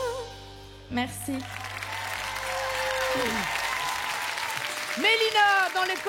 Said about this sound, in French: Applaudissements pour Mélina, s'il vous plaît.